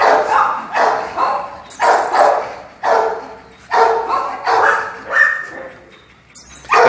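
Several dogs at a kennel bark repeatedly in quick, loud bursts close by, about a dozen barks in an uneven rhythm with short pauses between.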